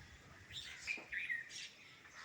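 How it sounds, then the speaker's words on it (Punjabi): A few thin, high bird chirps in quick bursts from birds eating ripe fruit after rain, faint and somewhat distant, against a quiet background. "ਉਹ ਦੇਖੋ ਪੰਛੀ ਕਿਦਾਂ ਗੋਲਾ ਖਾਣ ਡਏ ਆ"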